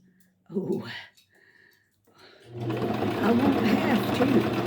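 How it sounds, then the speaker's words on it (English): A sewing machine back stitching the seams of a heart pillow starts after a couple of soft spoken words and runs steadily with a close, busy mechanical whir. "I'm back stitching a lot on this"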